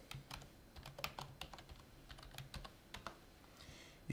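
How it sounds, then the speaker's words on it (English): Typing on a computer keyboard, a run of quick irregular key clicks, close and fairly quiet, with no voices. "If I just simply type in my name,"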